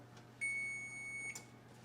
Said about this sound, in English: Timer's just about to go off.